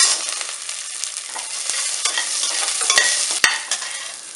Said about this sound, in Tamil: கருவேப்பிலை இந்த வெங்காயம்